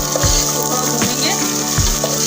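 Sliced onion with two spoons of garlic-ginger paste frying in a pan, a steady hiss of sizzling oil with periodic scraping stirs of a spoon against the pan.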